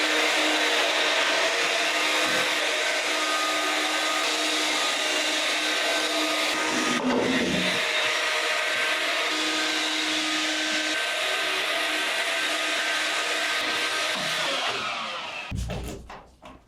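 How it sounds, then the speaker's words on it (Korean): A vacuum cleaner drones steadily while cleaning a photo studio, with a constant high-pitched whine and a couple of brief bumps before it cuts off near the end. "이거 청소기 돌리고"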